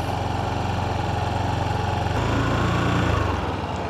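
Yamaha NMAX 155 scooter with its stock muffler, held at a steady rev of about 2,500 to 3,000 RPM: a close, continuous, even engine drone that rises slightly partway through, with no talk.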